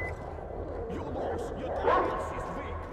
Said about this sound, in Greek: Τα έχουν και τσακώνονται τα σκυλιά.